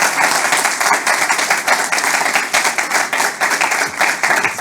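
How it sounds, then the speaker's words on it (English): Sustained audience applause fills the room at a fireside chat, dense steady clapping from many hands continuing without pause, fairly loud and close. "So let's have a big round of applause for Eric Collins."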